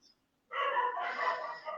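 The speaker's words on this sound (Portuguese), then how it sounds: "latidos aqui, né? Latidos, muitos cachorros ao meu redor também." Several dogs barking close by in a home neighborhood, a short burst of dense yapping that starts after a brief silence and carries on continuously.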